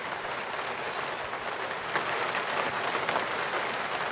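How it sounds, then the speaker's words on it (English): Steady rain drums on a garden polytunnel cover during a storm, a dense, even patter with occasional louder drops, heard alone without speech. "the storm is here, so you can hear the rain on the tunnel"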